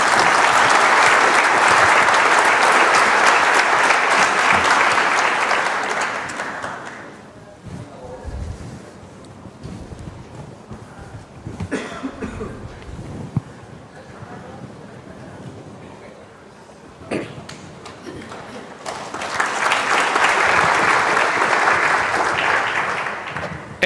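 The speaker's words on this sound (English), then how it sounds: "A round of applause for Mr. Chu." Conference audience applauding the FAO Director General before his opening remarks, a loud sustained burst of clapping that fades out, gives way to a quieter room with scattered shuffles, then swells back into strong applause.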